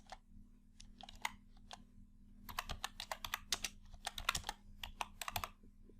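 Keys clatter on a computer keyboard while data is entered into an Excel spreadsheet: a few scattered taps, then rapid close-up bursts of typing against a low steady hum.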